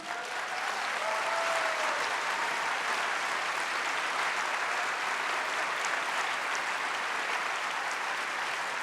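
A large audience at the Deauville American Film Festival 2019 opening ceremony applauds warmly in a sustained, even wave of clapping that holds at full strength for the whole stretch, with no speech on top.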